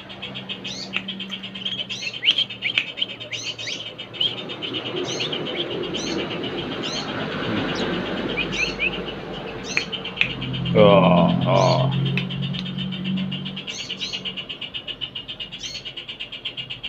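A white-rumped shama sings in repeated bright, whistled phrases that recur steadily through the clip, while a louder low burst of sound intrudes briefly near the middle.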